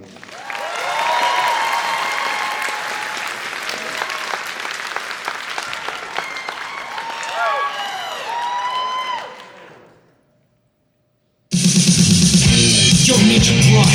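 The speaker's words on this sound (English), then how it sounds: "give a warm round of applause to Princess Soft Party" A convention crowd at a fursuit dance competition breaks into loud, sustained applause with scattered cheers and whoops, fading out after about ten seconds before other loud sound cuts in.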